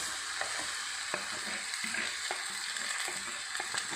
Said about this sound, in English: Just for 1 minute I'm going to fry them.